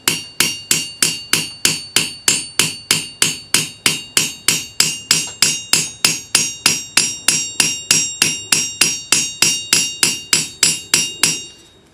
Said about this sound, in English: So, the locksmith's hammer.